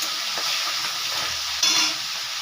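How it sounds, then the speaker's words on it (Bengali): Maruli fish fry in hot oil, making a quiet, close sizzle that swells briefly near the end, with no voices. "আবারও কয়েকটা মাছ আমি ভেজে নেব।"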